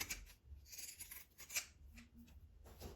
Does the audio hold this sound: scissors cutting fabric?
yes